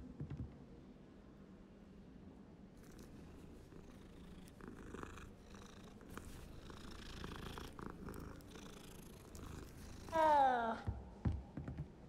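A cat purrs softly in the video game Hogwarts Legacy, a low continuous rumble under faint clicks, ending with a short louder vocal sound near the end.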